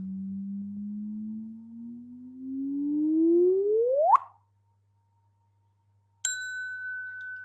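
Sonified neutron star merger data: a steady low tone rises smoothly into an accelerating upward chirp that cuts off abruptly, followed after a pause of silence by a bright sustained ding.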